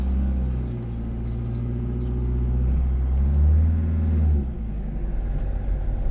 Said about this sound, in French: On va remettre en route le moteur.